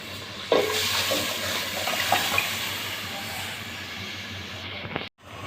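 Water pours steadily into a cooking pot with a hollow, splashing rush, fairly close, running for several seconds before cutting off abruptly near the end.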